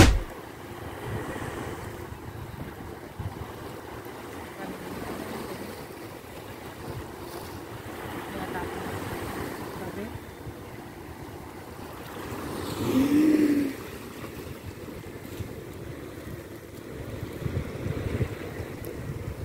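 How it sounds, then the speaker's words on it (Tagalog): Ocean waves wash in a continuous rush with gusty wind buffeting the microphone, a swell rising midway. "Ganda talaga ng ano ng alon,"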